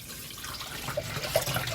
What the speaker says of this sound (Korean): 물 2리터를 부어주고요